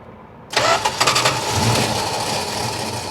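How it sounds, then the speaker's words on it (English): An old California car's engine cranks and catches abruptly after near silence, a few sputtering pulses settling into a loud, rough idle that carries on to the end. "Starting the car, here we go."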